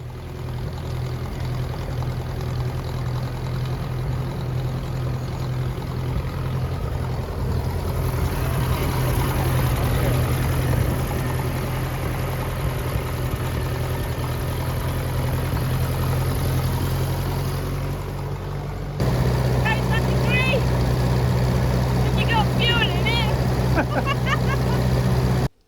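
A petrol Ferguson TE20 tractor drives along a road, its engine a steady, loud low drone held throughout, shifting to a slightly different tone near the end as faint chirps appear above it.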